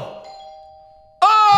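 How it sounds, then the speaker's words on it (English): A doorbell's chime tone decays to near silence, then a loud second ring or ding-dong bursts in abruptly near the end, close and bright. "Now we're just waiting for Big Bo to ring the doorbell."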